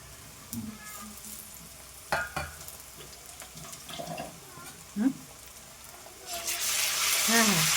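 Garlic paste hits a hot frying pan for a shol fish kalia, starting as scattered clatter and light sizzle that swells into a loud, steady frying hiss near the end; faint background voice.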